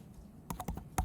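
Brief burst of keystrokes on a computer keyboard, about five quick, crisp taps close to the microphone in an uneven rhythm, entering numbers for an Nvidia valuation.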